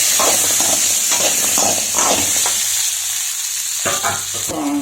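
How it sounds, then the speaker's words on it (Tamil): Small onions sizzling in a hot pan while cooking a country chicken masala, a loud, close, steady frying hiss broken by scraping stirs and clinks of the spatula. "நெக்ஸ்ட்டு சின்ன வெங்காயம் ஆட் பண்ணிக்க போகிறோம்."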